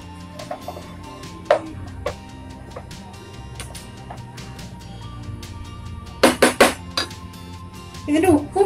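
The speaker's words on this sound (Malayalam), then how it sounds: "ഇതിലോട്ട് നമുക്ക് ആ വറുത്ത് വെച്ച ചിക്കൻ ഇട്ട് കൊടുക്കാം. അതുകൂടെ ഒന്ന് മിക്സ് ചെയ്തെടുക്കാം." Fried chicken pieces stirred into chicken fried rice in a pan, with scattered metallic scrapes and clinks of a spatula, a quick cluster of louder knocks near the end, and someone talking throughout.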